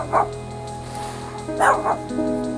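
A dog gives a few short yelps and whimpering barks in two bursts over a steady low background hum, fairly close, with no speech over them.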